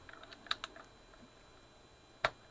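Sharp plastic clicks as keycaps are pressed onto a second-hand Atari 520STe keyboard, two or three quiet, close snaps spaced apart over a faint background hiss.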